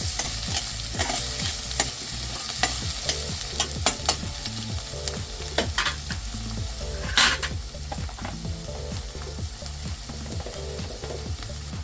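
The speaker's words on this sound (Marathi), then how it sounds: "कांदा असा ब्राऊन होईपर्यंत आता हे भाजून घ्यायचं आहे" Onion frying in a pan until brown for methi bhaji, a continuous close sizzle broken by many rhythmic scraping stir strokes of a spoon against the pan, with no talking.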